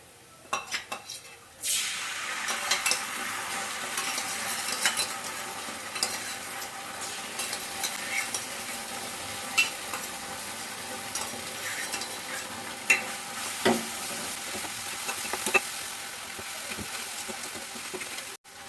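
Tomato ketchup is stirred into aloo manchurian frying in a pan, with a steady sizzle and repeated scraping, clinking strokes of a spoon against the pan that run throughout at close range.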